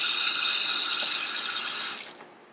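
Tap water runs steadily into a sink as hands are washed, a loud, close hiss that cuts off abruptly near the end as the faucet is shut, with no talking.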